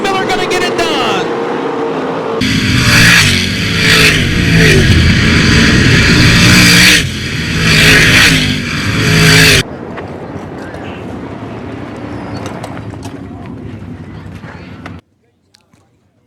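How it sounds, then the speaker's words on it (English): 305 sprint cars race at Attica Raceway Park, engines roaring loudly past in bursts before fading to a steadier distant drone under an announcer's commentary, then dropping out near the end. "Matt Foose drives it in hard at 3 and 4, pulls alongside, but Jamie Miller going to get it done"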